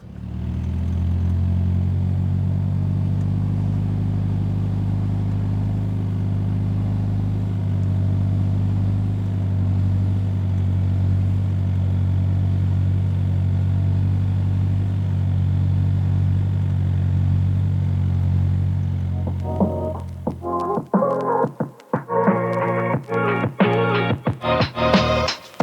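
A 2025 Toyota 4Runner creeping off-road on crawl control, its engine giving a steady low drone for most of the run before giving way to irregular clattering and knocking near the end.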